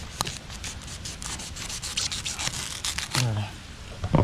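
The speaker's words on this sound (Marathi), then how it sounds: "याला सुरीने आपण कापून घेऊया अशा प्रकारे याला कापलं जातं" A knife cutting through a bamboo shoot outdoors during a tribal-style harvest: rapid rough rasping and scraping strokes, close up, with a brief voice near the end.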